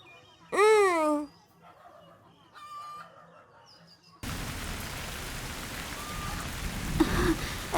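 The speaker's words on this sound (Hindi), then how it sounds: "अरे बारिश हो रही है" Rain begins falling steadily as a continuous hiss after a rooster crows and clucks nearby, the downpour holding evenly to the end.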